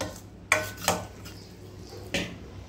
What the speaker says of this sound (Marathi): हा, मी हे एकजीव केलं आहे आणि चांगलं फेटून घेतलं आहे।